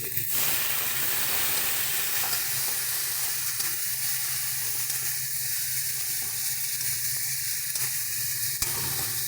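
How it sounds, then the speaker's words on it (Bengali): Water poured into a pan of tomato and spice mix for a taro and prawn curry, producing a loud, steady, close hiss of sizzling and steam that holds evenly throughout with a few faint clicks. "টমেটোটাকে ভালো করে মশলার সঙ্গে মিক্স করে নেব। এবার এর মধ্যে অল্প পরিমাণে জল দিয়ে দিচ্ছি।"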